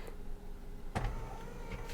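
A Tesla power seat motor whirs quietly as the seat glides back to its easy-entry position, a faint steady hum inside the car with a brief click partway through.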